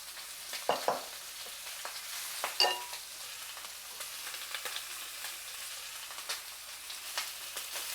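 Lamb chops (scottadita di agnello) searing in a hot pan give a steady, fairly quiet broadband sizzle with a few sharper spits and crackles scattered through, and no talking.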